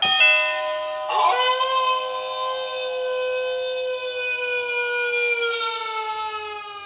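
An animated Halloween werewolf doorbell's electronic chime rings out, followed by a sustained, wavering howl-like tone that slowly falls in pitch, loud and close with no talking.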